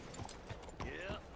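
Video game horse hooves clip-clop rhythmically at a trot in Red Dead Redemption 2, with a voice talking over them and a brief whinny-like tone near the end.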